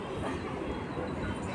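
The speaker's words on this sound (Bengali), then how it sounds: "ওই দেখো বন্ধুরা ট্রেন ঢুকছে" A train bound for Howrah rolls into a station, heard from a rooftop as a dense, steady low rumble with faint rhythmic rattling, moderately distant and unbroken.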